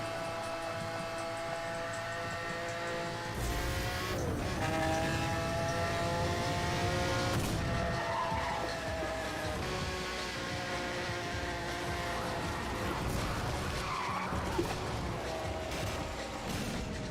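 A Mazda RX-8 slides and skids in Need for Speed: Hot Pursuit Remastered, its engine droning and tyres squealing in shifting tones over continuous game noise, with no talk.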